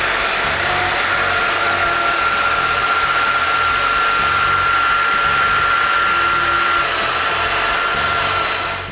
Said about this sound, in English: Now I just have to make all the mortises of the stiles.